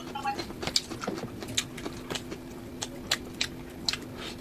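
Someone eats fishball and cucumber, with close, wet chewing and small crunchy bites over a low, steady background hum.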